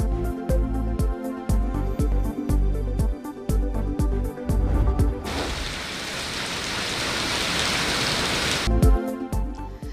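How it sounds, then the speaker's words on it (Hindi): Rain pours steadily in a morning downpour over Lahore, a dense hiss lasting a few seconds in the middle, framed before and after by rhythmic music. "लाहौर में सुबह सवेरे बादल बरस पड़े, शहर के नशेबी इलाके ज़ेरे-आब।"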